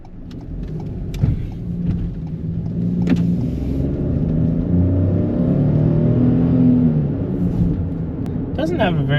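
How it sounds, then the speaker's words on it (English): A Ford Bronco Sport small SUV's engine runs with a steady, fairly loud droning rumble that swells slightly as it revs, with a brief whir near the end. "Doesn't have a very nice engine sound."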